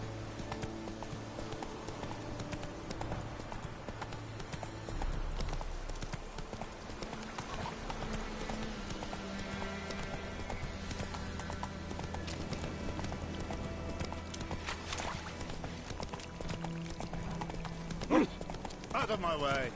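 Roach the horse gallops in The Witcher 3 with continuous rapid hoofbeats under game music and ambience, and a voice speaks over it.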